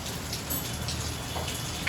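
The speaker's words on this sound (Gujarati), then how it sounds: "વરસાદની શરૂઆત ધીમી ધારે થઈ ગઈ છે" Light rain begins falling in Surat, a soft steady hiss of drops on surfaces, close by and quiet, with a few faint individual drop taps.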